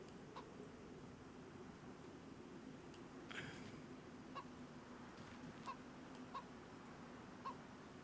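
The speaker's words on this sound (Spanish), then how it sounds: "Aquí, pero es una gallina" A chicken in DayZ gives a few faint, short clucks spaced every second or so, distant over a steady outdoor hiss.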